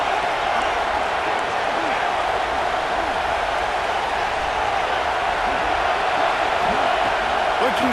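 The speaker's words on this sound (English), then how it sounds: "how nice is it to have the home crowd going absolutely bananas" Loud home crowd in College Football 26 roars in a steady, dense wall of cheering and noise throughout, with a commentator's voice riding over it.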